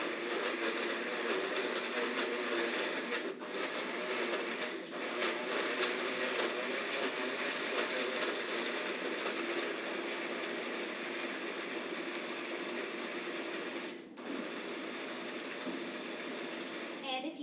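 A kitchen blender runs steadily and loudly, churning a smoothie of frozen strawberries, kiwi and banana in a dense whirring roar, with a few brief dips where the motor pauses or changes speed, and no voices over it.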